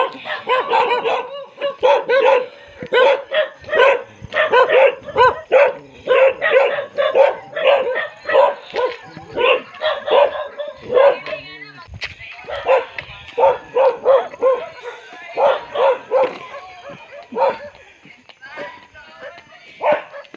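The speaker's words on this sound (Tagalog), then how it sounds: "nagsisitahulan yung mga aso na daanan namin" Dogs bark in rapid bursts along a mountain path in the Taytay Hills of Carmen, Bohol, at dawn. The barks are close and loud, with yips and whimpers mixed in and brief pauses between runs.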